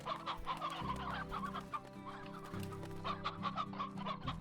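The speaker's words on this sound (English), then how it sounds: "Every time you hear that spot, all I hear is chickens." Chickens in the Slime Rancher video game cluck steadily and repeatedly in a busy farmyard chorus, fairly close and continuous, with no talking over them.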